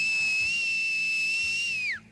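A sustained high whistle signal from enemies in The Last of Us Part II, a single steady loud tone holding for about two seconds before sliding down in pitch and cutting off.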